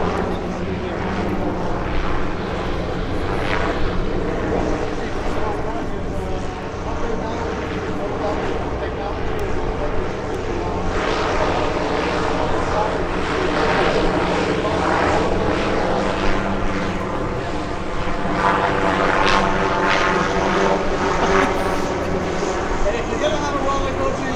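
Steady propeller engine drone from the Goodyear blimp Wingfoot 1 overhead, loud and continuous, with a person talking beneath it, at EAA AirVenture Oshkosh 2025.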